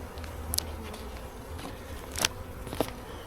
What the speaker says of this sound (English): there's a whole bunch of bees flying around